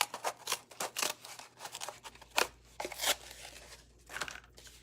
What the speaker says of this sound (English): And my scissors, I'm just going to cut this quick.